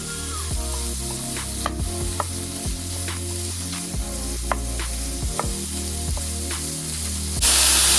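Ground bison frying in a pan without oil gives a steady, loud sizzle, with a series of regular scraping or tapping strokes from stirring running throughout. Nobody speaks.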